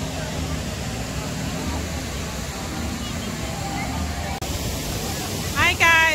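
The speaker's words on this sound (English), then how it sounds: "I love this man-made waterfalls." Steady rushing roar of a man-made waterfall at Canada's Wonderland amusement park, continuous and close, with a voice and a brief whistle-like chirping near the end.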